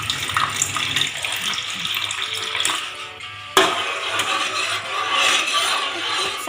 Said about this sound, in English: so that we should pour some water.